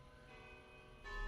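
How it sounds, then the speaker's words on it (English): Church bells ring at nine o'clock outside a Premier League match, a faint, sustained metallic ringing with lingering tones that grows slightly louder toward the end, no speech over it. "Can you hear the church bells?"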